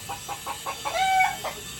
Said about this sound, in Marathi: आपण गावठी कोंबडी आणलेली घरून ती आपण कापायला आणलेली आहे